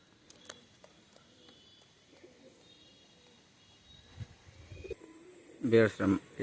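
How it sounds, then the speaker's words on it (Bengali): Khulna old-breed Machhiya pigeons with white, cream-coloured eyes give soft, faint coos in a quiet loft, with a louder burst of fluttering and calls near the end. "এটা হচ্ছে মাছিয়া কবুতর, সাদা চোখের একটা কবুতর"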